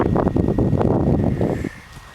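Strong gusting wind buffeting the microphone among poppies, a heavy low rumble that swells and then drops away near the end.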